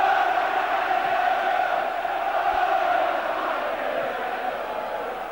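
Crowd of over 23,000 football fans at the Den during Millwall v Liverpool in the FA Cup fourth round, a steady distant roar and murmur filling the stadium with no distinct chants.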